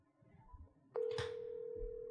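A cell phone sounds a short keypad blip, then a steady, loud electronic tone rings out and holds unbroken until the end, with faint murmuring beforehand.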